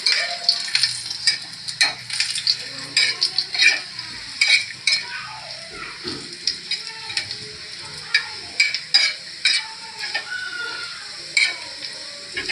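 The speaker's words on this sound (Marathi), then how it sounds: "कढीपत्ता आपण फोडणीला टाकूया" Loud, steady sizzling of curry leaves frying in hot oil with garlic and ginger for tempering, broken by repeated scraping and clinking of a spoon stirring in the pan.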